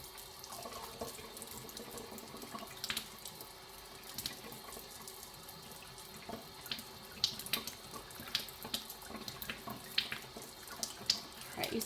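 Cold water runs steadily from a tap over homemade butter being rinsed, a continuous hiss and splash broken by sharper drips and clinks, with no talking.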